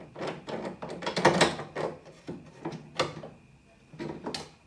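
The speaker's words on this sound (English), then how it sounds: "And then I'll kind of hold the door handle up while unscrewing." Socket on an extension unscrewing a car door handle inside a Ford XD-XF Falcon or Fairlane/LTD door, a run of close clicking and rattling metal taps with short pauses between.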